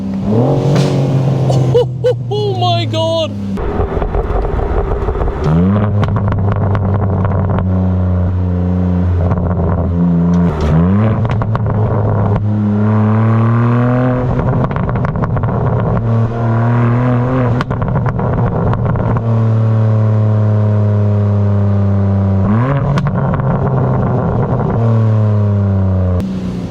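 The 530-horsepower 2025 BMW M4 Competition LCI engine revs repeatedly from inside the cabin, its loud exhaust rising and falling through a series of climbing pulls and gear shifts. A person exclaims briefly early on.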